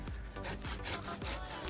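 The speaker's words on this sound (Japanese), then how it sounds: "こう角を削いでいくような感じでノコギリを引いていく" A gardener draws a hand saw through wood in repeated strokes, the close, steady rasping rising and falling with each pull and push, with no talking.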